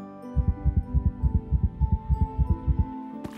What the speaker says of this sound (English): he suddenly felt his heart beat faster in his chest